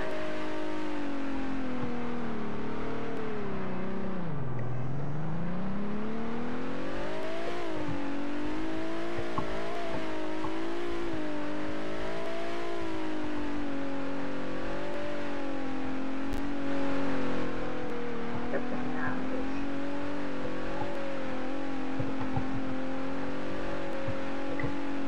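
A motorbike engine drones steadily in a video game, rising and falling in pitch as it accelerates and cruises, continuous and fairly loud with no talking.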